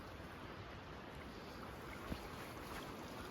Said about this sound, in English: Water coming out of nowhere.